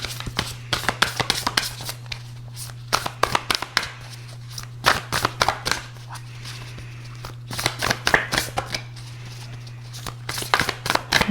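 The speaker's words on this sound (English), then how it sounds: "Do one more shuffle." Cards are shuffled in quick rustling bursts, crisp riffling and slapping sounds repeating close by over a low steady hum.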